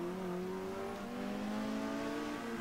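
A Honda Civic race car's engine hums at a steady drone in the VLN 2005 racing game, its pitch rising slowly as it accelerates, moderately quiet and continuous with no voices.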